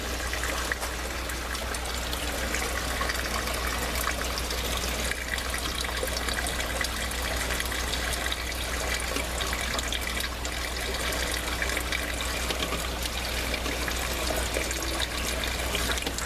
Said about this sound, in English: There, the water's flowing.